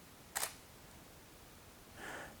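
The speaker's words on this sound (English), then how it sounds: "This is the shutter release button." A Canon 7D Mark II DSLR fires a single sharp shutter click, followed about a second and a half later by a softer mechanical whir as the mirror resets, close and alone in a quiet room.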